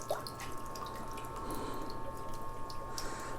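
Water running and dripping as potted plant roots are rinsed out in a container, a steady close trickle with small splashes, no voices.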